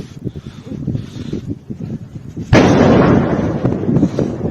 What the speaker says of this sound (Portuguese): uma explosão realmente muito grande